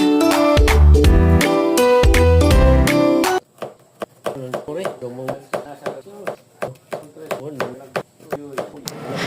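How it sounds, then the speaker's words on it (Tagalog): A knife chops squash and other ingredients on a board, a steady run of sharp, close, rhythmic knocks that follows a few seconds of music. "Natapos ko na pala hiwain ang mga ingredients at ang kalabasa"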